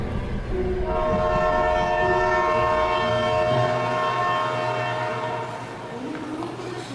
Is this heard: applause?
no